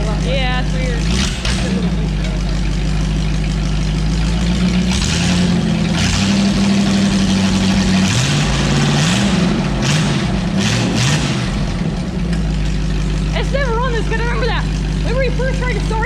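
A straight-piped Ford flathead V8-60 engine idles with a loud, steady, deep exhaust rumble that runs the whole time, while people talk over it nearby.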